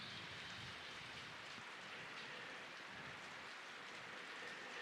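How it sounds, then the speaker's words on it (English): Rain falls constantly in a soft, wide hiss, sounding somewhat distant and unbroken, with no one speaking. "you may hear the sound of the rain"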